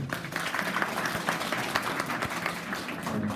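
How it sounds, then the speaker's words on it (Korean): Applause from an audience at a Korean teachers' presentation event, a dense continuous patter of clapping at moderate distance held steady throughout. "다시 한번 큰 박수 부탁드립니다."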